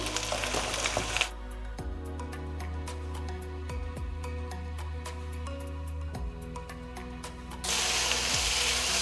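Spiced fritter batter fries in hot oil with a steady sizzle, punctuated by sharp clinks and taps of utensils against the pan.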